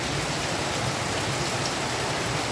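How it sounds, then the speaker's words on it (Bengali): Steady heavy rain pours down while water streams off a roof, a dense continuous hiss without pauses or voices. "ছাদের থেকে জল পড়ছে দেখো, ছাঁ ছাঁ ছাঁ ছাঁ ছাঁ ছাঁ করে"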